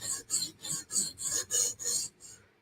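A Ruike flipper knife is drawn across the stone of a TSProf Kadet guided sharpener in about eight close, even raspy strokes, each a short scrape followed by a brief pause.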